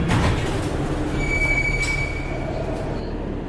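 A subway train pulls into an old-city metro station with a loud rumble and a thin, sustained wheel squeal rising over the roar, then easing as it slows.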